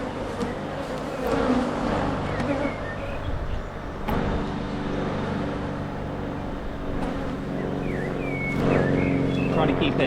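Honey bees hum steadily around an open hive at close range, a dense continuous buzz with individual bees zipping past.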